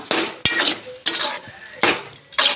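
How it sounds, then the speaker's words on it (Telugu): Onion and tomato frying in a pan for Maggi, a spoon clanking and scraping against the metal pan in a few sharp bursts while a voice talks over it. "అది వేసాను టమాటో కూడా బాగా కలిపి వేగనివ్వాల"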